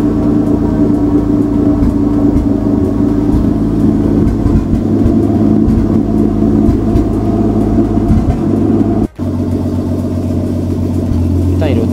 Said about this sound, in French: Il me reste à démarrer le véhicule pour voir si tout fonctionne.